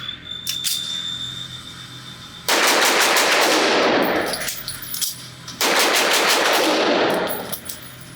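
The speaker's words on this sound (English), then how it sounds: "let's just see how fast I can shoot this thing and get it back into action." Two fast strings of pistol shots from a CZ 75 P-01 Omega on a shooting range, each burst loud and rapid-fire, separated by a short pause.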